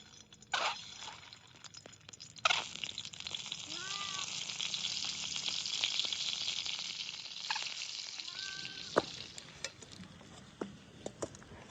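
Eggs sizzle and crackle steadily in hot oil, a soft continuous hiss with occasional pops, quiet and close.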